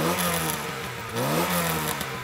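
Classic VW Golf GTI with a 1.6 engine revs hard up close, climbing, dipping briefly, then rising again in a brief, loud burst.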